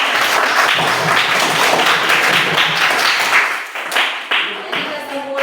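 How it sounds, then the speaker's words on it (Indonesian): Classroom applause for a student group after a poetry presentation, loud brisk clapping from many hands that thins out toward the end, with some voices mixed in. "Oke, berikan tepuk tangan."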